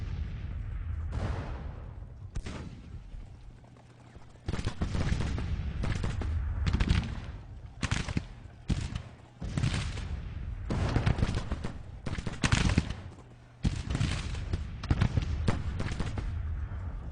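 Rifle volleys from massed infantry in the Civil War strategy game Grand Tactician, repeated crackling bursts of gunfire rolling in waves with short pauses between them, loud and continuous.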